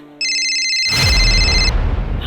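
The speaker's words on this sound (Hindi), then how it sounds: "आदि का फोन।" An electronic phone ringtone trills steadily with bright, high tones, then cuts off as a louder, rumbling noise takes over.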